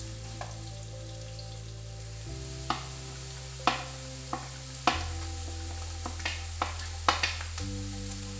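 Red onions fry in oil in a pan for hotel-style egg gravy, a steady close sizzle with occasional stirring clinks and taps over faint background tones.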